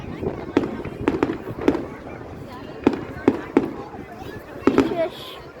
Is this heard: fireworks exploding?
yes